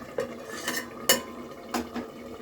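Hilsa fish curry with eggplant stirred in a pan, a utensil scraping and clinking against the metal in a few scattered, distinct strokes over a low background hum.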